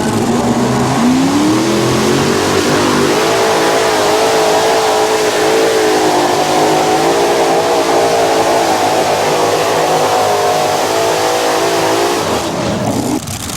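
A modified pulling tractor powered by three Chevy engines makes a pass at a 1994 NTPA pull, a loud, continuous multi-engine roar that climbs in pitch early then holds steady before cutting off near the end.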